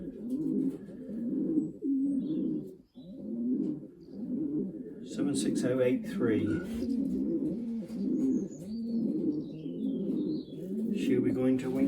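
Racing pigeons coo in repeated low, rolling calls close by, with rustling and handling noise and someone speaking through part of it.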